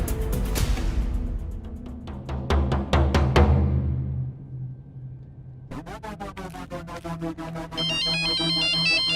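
A loud electronic ringtone plays up close, first a series of sharp chiming hits, then a faster repeating melodic ring that continues to the end.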